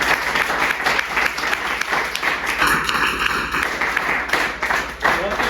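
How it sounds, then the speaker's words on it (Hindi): An audience claps in steady, sustained applause at an indoor talk promoting a perfume product, the crowd's clapping filling the room while a voice speaks over it. "उसके लिए ताली बजा सकते हैं।"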